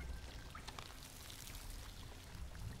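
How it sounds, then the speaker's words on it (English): Water pouring in the video game Tearaway Unfolded, a steady broadband wash of rushing, splashing water with a low rumble underneath, continuous and fairly loud throughout with a few brief bright blips. "you'll need to stop the all this water from pouring"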